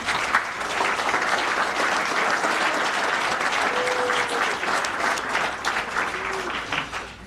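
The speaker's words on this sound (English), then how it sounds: "Please join me in a round of applause thanking all of these people." Sustained audience applause fills a hall at a high school athletic Hall of Fame awards ceremony, steady and dense for several seconds before thinning slightly at the end.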